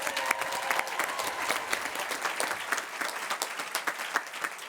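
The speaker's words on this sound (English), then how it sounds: "let's clap, come on." A 2024 graduation commencement audience applauds: dense, steady clapping from a large crowd, fairly loud and continuous throughout, with no voices standing out.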